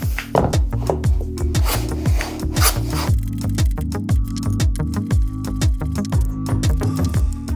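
A hand plane shoots wood edges on a shooting board for a keepsake box base and lid, making repeated rasping strokes in a steady rhythm, close and fairly loud, with no talking.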